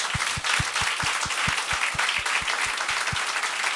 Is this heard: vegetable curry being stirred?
no